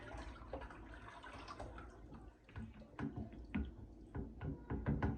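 Lye solution poured through a strainer into a beeswax cold process soap mixture, giving soft liquid trickling and dripping with scattered light knocks and clinks, close and fairly quiet.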